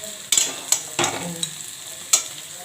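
Small shrimp heating in a frying pan, a soft sizzle broken by a few sharp stirring scrapes and clinks, close and fairly quiet, with no talking.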